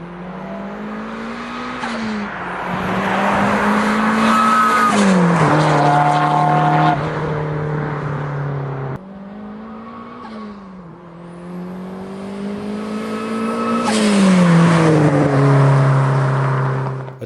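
A loud exhaust on a turbocharged Mazda MX-5 with a bespoke shotgun-style back box roars up through the revs twice, booming and rasping as the engine climbs then drops back, close and powerful.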